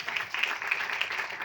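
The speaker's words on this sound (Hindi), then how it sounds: "Give them a big round of applause" Audience applause at a DXN seminar in Delhi: a steady crowd of hands clapping for the whole stretch, dense and even, at moderate loudness with no voices standing out.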